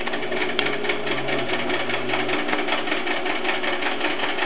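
A computerized PC Quilter quilting machine stitches at a steady, even pace, its rapid mechanical chatter and low motor hum running continuously up close with no talking.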